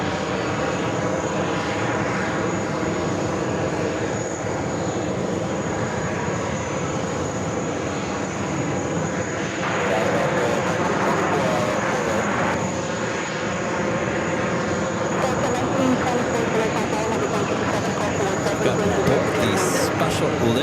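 Aircraft engine roar from an Air France Boeing 777 arriving on runway 4 right at JFK, a steady broad rumble holding loud through the whole stretch, with voices talking over it.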